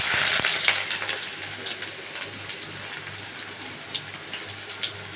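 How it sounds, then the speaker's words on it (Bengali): Onions hitting hot oil in a wok, a loud hissing burst at the start that settles into a steady, close sizzle with no talking. "এখন কিছুটা পেঁয়াজ দিয়ে দিব।"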